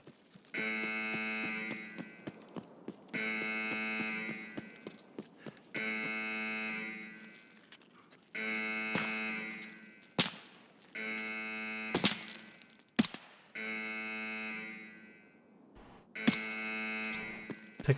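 An alarm in the Reserve map of Escape from Tarkov blares in repeated buzzing pulses of about a second each, separated by short gaps, with sharp gunshots and thuds cutting in during the later pulses.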